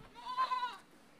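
A goat bleats once, short and fairly faint, on a cattle farm with cows, bulls and buffalo calves, against quiet background.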